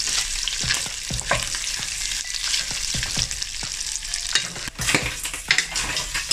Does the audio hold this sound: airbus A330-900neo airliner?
no